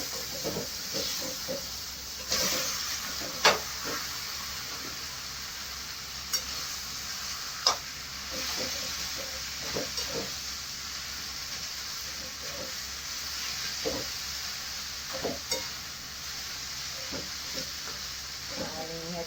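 Veg Hakka noodles tossed and stirred in a hot pan, a steady soft sizzle and hiss broken by scattered clacks and scrapes of the spatula, close and fairly quiet, with no talking.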